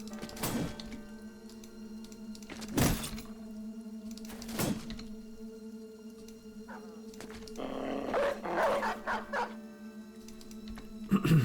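Dogs bark and yip in a video game, with several sharp bursts spread across the clip over a steady droning background and a low hum.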